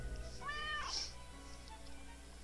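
A cat in the video game Death and Taxes gives a single clear, rising meow, close and distinct over a quiet background hum.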